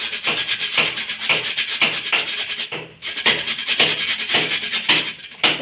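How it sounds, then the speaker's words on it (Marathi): Carrots rubbed against a hand grater for carrot halwa, a steady run of rhythmic rasping strokes, close and loud, with a brief pause midway and no talking. "आता हे गाजर या पद्धतीने किसून घ्यायचं आहे."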